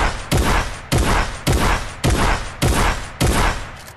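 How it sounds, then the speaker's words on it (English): The semi-automatic combat shotgun in Fortnite Battle Royale fires six loud, booming blasts in quick, even succession, each sharp crack followed by a short decaying tail, with no talking over it. "So Epic have decided to vault the pump shotgun, and instead we have got this. The new combat shotgun."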